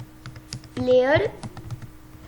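Computer keyboard typing, heard as faint, scattered clicks through the clip, briefly overlapped by a short voiced sound in the middle.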